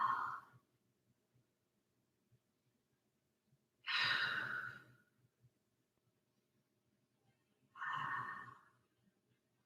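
Three slow, audible breaths in a relaxed child's pose during a Pilates session, each a soft airy exhale lasting about a second, evenly spaced with near silence between them.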